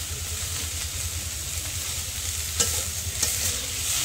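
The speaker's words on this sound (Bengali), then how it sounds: "দিয়ে ভালো করে একটু নাড়াচাড়া দিয়ে নেবে।" Fresh coriander leaves, seasoned with salt and turmeric, sizzle in a hot pan while being stirred, a steady close frying hiss broken by a couple of sharp scrapes of the spoon against the pan.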